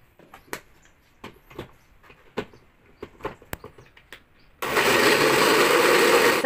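Spice paste of chopped seasoning, toasted coconut, ground pepper and water is ground for Acehnese chicken curry. Scattered knocks and taps lead into a loud, steady electric grinder whir that runs continuously to the end.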